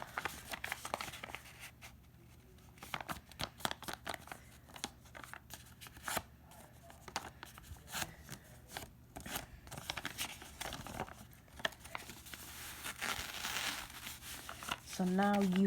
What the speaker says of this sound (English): So I'm going to crease it and rip it.